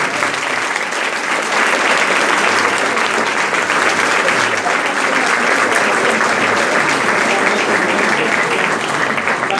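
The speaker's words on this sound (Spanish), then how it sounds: "un fuerte aplauso también." Loud, sustained applause from a crowd at a school's fiftieth anniversary celebration, dense and steady clapping filling the hall throughout.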